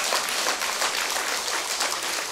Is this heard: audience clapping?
yes